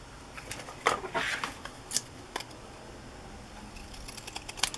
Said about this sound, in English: These are old, heavy pinking shears that I bought at a flea market.